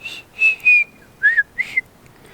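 A child whistles several short, breathy notes in a broken rhythm, some sliding in pitch, close by with no talking.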